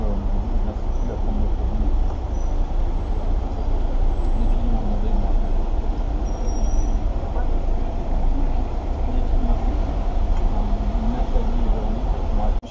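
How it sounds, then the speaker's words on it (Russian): A sightseeing tram rolls along a Paris street, a continuous low rumble with faint high hissing among passing traffic, heard from a roadside cafe while people talk nearby. "Экскурсионный трамвайчик едет."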